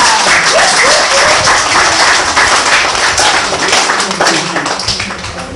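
Loud, dense applause from a gathered audience for donors to a nursery school, sustained clapping that slowly tapers toward the end.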